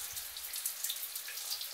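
Shower water running at low pressure, a soft steady hiss of spray with light spattering, close and fairly quiet throughout, with no voices.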